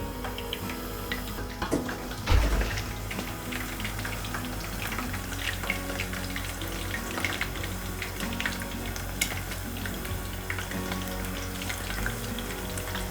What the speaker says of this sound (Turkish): Kontrollü bir şekilde kızartalım.